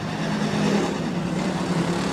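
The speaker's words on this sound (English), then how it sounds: "He and Crone side by side, battling it out for 3rd with Leon Sneller, your race leader on lap number 1." Sportsman stock cars race at a dirt speedway, their engines blending into a continuous loud, droning roar with no breaks.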